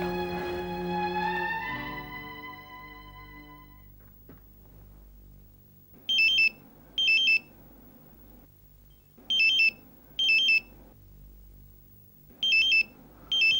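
A mobile phone left behind rings in a quiet room, its electronic ringtone sounding in three paired bursts at regular intervals after a fading musical sting.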